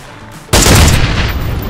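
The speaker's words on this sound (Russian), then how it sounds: "Вот где взрыв." A sudden loud blast bursts in after a quiet stretch in PUBG, followed by a dense, rumbling crackle of game explosion and gunfire noise that lingers.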